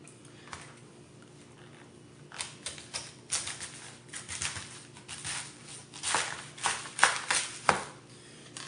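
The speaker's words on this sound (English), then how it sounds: "cut your cabbage." Cabbage being cut with a knife, a series of crisp, close chopping and slicing strokes that grow louder and quicker toward the end, with quieter rustling before them and no talk.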